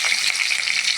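Bay leaf, cinnamon and cloves sizzle in hot oil for tomato bath, making a brief, close, bright crackling hiss that holds steady.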